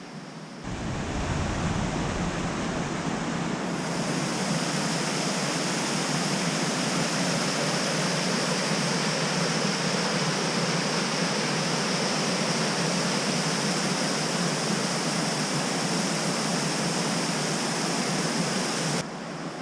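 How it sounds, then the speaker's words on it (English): Rushing river water near Avon Dam on Dartmoor, a loud, steady broadband roar of flowing water that holds close and constant throughout, with no voices. "hopefully you can hear me over the water"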